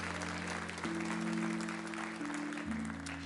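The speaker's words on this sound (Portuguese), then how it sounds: "Você pode aplaudir ao Senhor por isso?" Steady applause from a church congregation during a sermon, sustained and fairly even throughout, with a low droning tone underneath.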